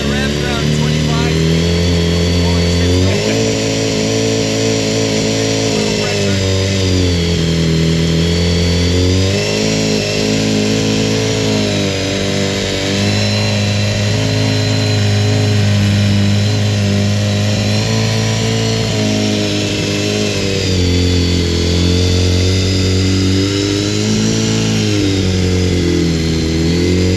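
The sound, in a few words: BMW S1000RR sportbike engine held at steady revs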